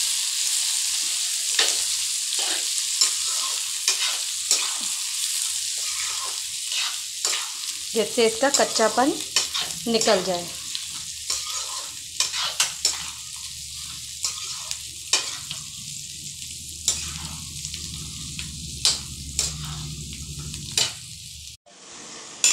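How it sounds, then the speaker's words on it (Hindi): Chopped garlic for a garlic pickle fries and sizzles in hot oil in a pan, with a spoon scraping and stirring in frequent close clinks and swishes over a constant hiss; a voice speaks briefly over the cooking. "अब हमारा ये लहसुन भुन गया है"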